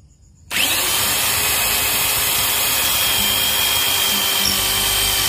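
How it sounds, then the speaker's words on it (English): A power drill boring a hole starts abruptly and runs at a steady, loud, continuous whine for several seconds with no talk. "we have seen that how to drill a hole in a wall or in the ground using the drill"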